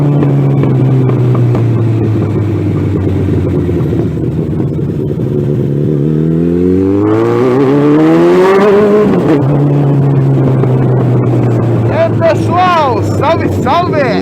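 A Suzuki Bandit 1200 motorcycle exhaust idles loudly up close, then revs up in a rising sweep, falls back to a steady idle and gives a few quick blips near the end, with people talking over it.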